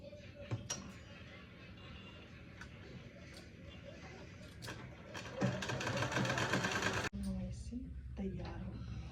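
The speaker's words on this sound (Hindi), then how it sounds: "अब मैं आपको इस पर सिलाई लगा कर दिखाती हूँ।" A sewing machine stitches a salwar panel, its steady mechanical whirring running close and continuous throughout, with a brief pause near the end.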